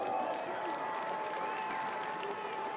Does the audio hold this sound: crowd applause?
yes